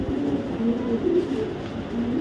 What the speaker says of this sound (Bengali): দেখাবো বিআরপিএল ক্লাবের একটা নর কবুতর